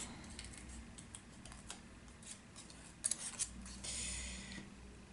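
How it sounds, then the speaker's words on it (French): Scissors cutting paper around a small hedgehog drawing, soft quiet snips and rustles at close range, with a few brighter metallic clicks and a louder burst of paper handling near the end. "Je viens découper, hop, tout autour."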